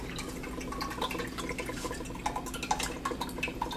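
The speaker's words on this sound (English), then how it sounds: "I'm just going to go ahead and pour it in here because I know that it's a good one." Coconut water is poured out of a fresh coconut, giving soft irregular trickles and drips close by, with no talking.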